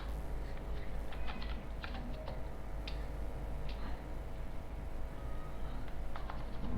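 Quiet, irregular clicking of keys on a computer keyboard, with light scattered taps over a faint steady background hum and no voices.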